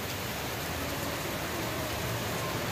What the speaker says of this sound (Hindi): और बाहर तो हो रही है बहुत तेज, ज़्यादा तेज बारिश।